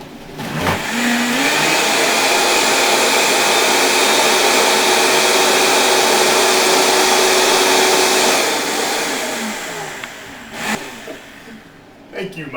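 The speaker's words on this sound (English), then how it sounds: "Now we're going to blend this up." A blender whirs loudly for about eight seconds, blending a grape leaf and banana smoothie, with a steady motor roar that starts and stops abruptly, followed by a few clunks.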